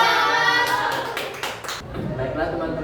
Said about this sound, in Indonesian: kelompok 2, tepuk tangan